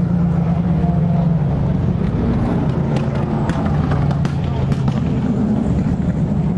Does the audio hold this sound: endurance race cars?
yes